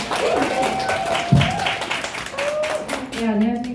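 Audience clapping at a Korean seminar Q&A session, fairly loud and close, mixed with voices and a sharp tap near the middle.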